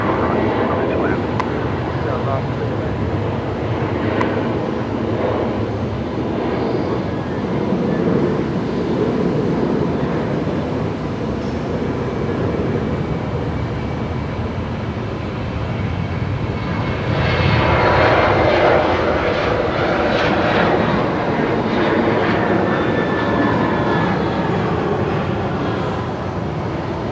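Aircraft landing at Brisbane Airport, with a loud, continuous jet engine roar that holds steady for the whole stretch and swells slightly near the end, while voices talk over it.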